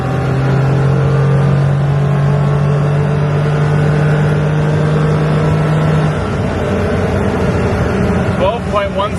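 A Ram 1500 pickup with an economy engine tune accelerates hard on a 0 to 60 run, its loud engine drone climbing steadily in pitch before easing off near the end, with no voices over it.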